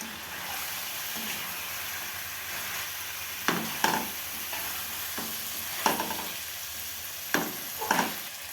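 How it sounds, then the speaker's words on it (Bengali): Four slit green chillies fry in a pan for chicken rice, giving a soft, continuous sizzle broken by several sharp scrapes and knocks from stirring, close up and without talk. "এটাতে আমি 4টে চেরা কাঁচা লঙ্কা দিচ্ছি।"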